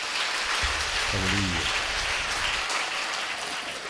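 A church congregation claps in praise, a dense, steady wash of applause that stays loud throughout, with a brief low voice heard under the clapping.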